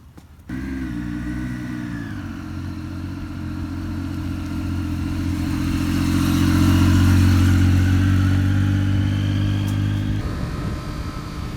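Triumph Daytona 675R motorcycle with quick shifter cruising down a road, recorded close on the bike: a steady loud engine drone that rises gently in pitch and intensity midway, then eases off near the end, with wind noise throughout.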